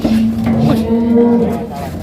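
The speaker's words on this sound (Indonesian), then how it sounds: "Ngamuk sapi nih." An agitated cow lets out a loud, close, drawn-out moo with a steady tonal drone lasting about two seconds, against some background noise.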